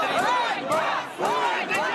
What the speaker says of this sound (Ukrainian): Усіх, хто виходить із прокуратури, люди супроводжували вигуками Ганьба.